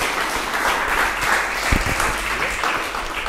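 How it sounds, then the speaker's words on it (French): An audience applauds a speaker after a question session at a French event, a steady, fairly close burst of clapping heard on its own without talk. "Arthur, on peut l'applaudir"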